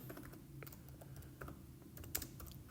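A computer keyboard clatters with a quick, irregular run of keystrokes as a social network post is typed, faint and close, with no talking.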